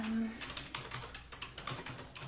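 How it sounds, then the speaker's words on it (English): Fast, close typing on a computer keyboard in a quiet room, a soft irregular patter of light key clicks with no voice over it. "Let me just type something else real quick."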